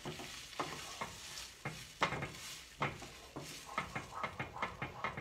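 Italian beef sizzles in a pan over reduced heat while being stirred around, with a steady frying hiss and a series of scraping stir strokes that repeat faster toward the end.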